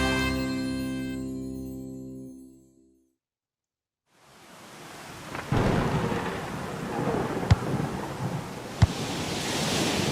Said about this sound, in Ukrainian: Який сильний дощ на вулиці і вітер.